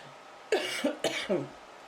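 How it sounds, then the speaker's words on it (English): Two or three short, sharp coughs in quick succession, close and fairly quiet, with no talking. "I always cough more once I've dusted"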